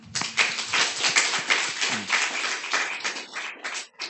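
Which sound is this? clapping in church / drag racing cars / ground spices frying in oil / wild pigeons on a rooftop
clapping in church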